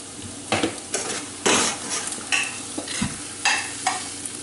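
Breakfast food is scraped off a sizzling frying pan in a series of sharp metal spatula scrapes and clatters at an irregular rhythm over a steady close fry, with no talking.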